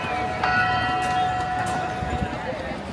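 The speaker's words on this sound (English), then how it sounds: "That bell indicates that it is 3:30 as we approach Toontown" A Disneyland bell near Toontown chimes the time with sustained ringing tones that hold steady and slowly fade, moderately loud amid crowd murmur and footsteps, with a faint second strike partway through.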